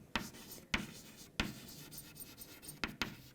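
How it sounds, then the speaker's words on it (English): Pen or marker writing on a board during a chemistry lesson, several quick scratchy strokes in bursts, close and fairly quiet, with no talk. "so I will write"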